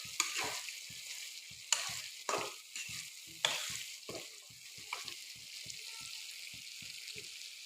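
Local chicken meat dropped into sizzling spices in a pan with potatoes, a soft crackling fry broken by several loud bursts and scrapes as pieces land and get moved around.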